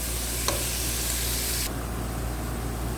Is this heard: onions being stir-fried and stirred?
yes